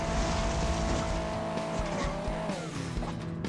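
A car fitted with winter tires accelerates in the video game Hill Climb Racing 2, its engine holding a loud, steady, buzzing tone that drops in pitch near the end, backed by continuous game noise.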